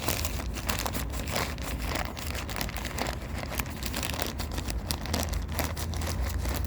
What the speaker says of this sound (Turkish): Evet bu şekilde poşeti yırttım ve biraz çıkardım.